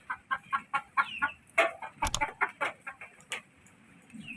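Backyard chickens cluck in a rapid series of short, close calls during the rainy season, several birds overlapping, with a sharp squawk midway.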